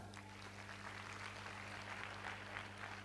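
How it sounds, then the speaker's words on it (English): School audience clapping at an education event, a soft, continuous patter of applause heard at a distance and low in level throughout. "Give yourself a round of applause for that."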